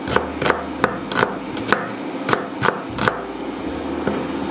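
Red onion being chopped on a board for a Transylvanian lamb stew, a quick run of sharp, evenly spaced knife strikes close by over a low background hum, with no talking.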